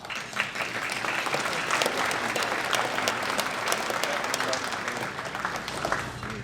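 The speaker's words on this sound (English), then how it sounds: "Round of applause." Dense, steady applause from a seated crowd at a 2025 Half Century Club alumni luncheon for the class of 1975, filling the room evenly from start to finish.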